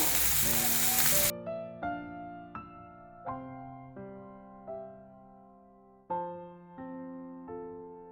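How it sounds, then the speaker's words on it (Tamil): Vanjaram (seer fish) pieces frying in a pan, browned on both sides, give a loud, dense sizzle for about a second before it cuts off and soft melodic music takes over. "பாருங்கள், இப்போ 2 பக்கமும் நல்லா ஃப்ரை ஆகிடுச்சு"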